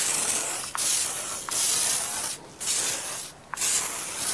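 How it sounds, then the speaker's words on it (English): Three quick spray-bottle bursts of Show Sheen finishing mist detangling a horse's tail, fine misting hiss, each about a second long with brief gaps, close and fairly loud. "I'm gonna spray a little bit of the Show Sheen finishing mist on it just to help detangle the knots"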